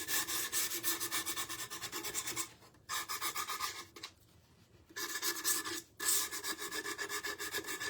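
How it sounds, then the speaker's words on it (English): A Gator sander runs lightly over the curved handle of an old toolbox, giving quick rhythmic rubbing strokes in close bursts with two short pauses between passes. "So I'm just kind of lightly running my gator sander over it."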